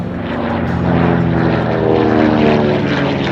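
A B-25 Mitchell propeller bomber flies past at an air show at Joint Base MDL. Its piston engines give a loud, steady, droning roar that swells slightly and holds close and strong throughout, with no talk.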